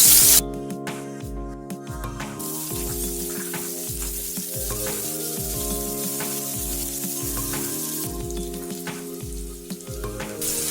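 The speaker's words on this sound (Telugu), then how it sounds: "ఇప్పుడు మనం ఆనియన్స్, కరివేపాకు, ఎండుమిర్చి వేసుకుందాం." Onions, curry leaves and dried red chillies hit hot oil in a pan for a bhindi charu tempering, giving a loud, steady sizzle that runs throughout with bursts of spattering and stirring scrapes.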